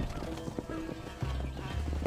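A horse gallops with rapid, loud hoofbeats and lets out a neigh in the Red Dead Redemption video game, close up over game music, with a brief voice in between.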